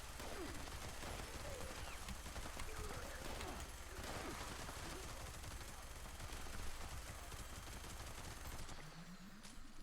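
Dense gunfire in the video game Fallout 76, sustained loud bursts of shots and rapid automatic fire layered with impacts and clatter, continuous throughout before cutting off near the end.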